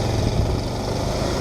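A Bajaj Pulsar motorcycle engine rumbles steadily while being ridden, a close, continuous low drone with no speech over it.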